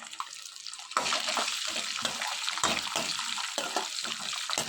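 Peanuts, lentils, cumin and green chillies fry in hot oil, a busy crackling sizzle that starts abruptly after a quiet moment and carries on with uneven bursts, like stirring in a pan.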